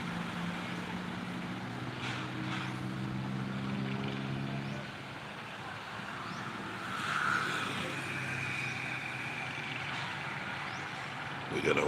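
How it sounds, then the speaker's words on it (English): Busy street traffic in the Philippines, with trikes, jeepneys, cars and trucks passing, rumbles below a balcony as engines drone, swell and fade at moderate distance, with one vehicle drawing nearer toward the end. "We're gonna watch the trikes, bikes, jeepneys, cars, trucks go by. This is when traffic is about to get hectic."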